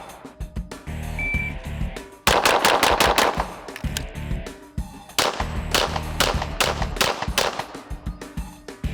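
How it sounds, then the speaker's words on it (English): Rapid bursts of pistol shots ring out during a competition training drill, six strong-hand shots and then more after a reload to the support hand, loud and close, sharp cracks in quick clusters. "we'll do the same thing again, 6 shots freestyle, and then do a reload to support hand"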